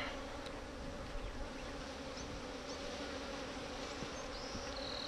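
Honeybees buzz steadily and densely at an open hive during a beekeeping lesson, a close, continuous drone filling the whole stretch with no voices over it.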